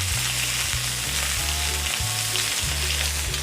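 Pork browns in a hot pan for a broccoli stir fry, giving a steady, close sizzle and crackle with faint stirring scrapes under it and no voices.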